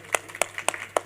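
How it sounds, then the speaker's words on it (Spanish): Audience clapping at a book fair conference in La Serena, a handful of sharp, uneven claps standing out clearly in a short, sparse burst with no voices. "un aplauso de verdad"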